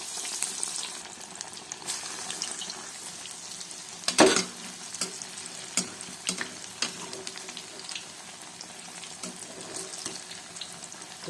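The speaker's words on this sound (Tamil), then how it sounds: "எண்ணெய் காஞ்சதும் வடைகளாக போட்டுருக்கேன்." Banana flower vadai fritters frying in hot oil, a steady close crackle and bubbling with scattered sharper pops and one brief louder burst, no voices.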